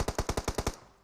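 A close, loud burst of automatic gunfire in PUBG Mobile, about seven rapid evenly spaced shots sprayed in under a second, then a fading tail.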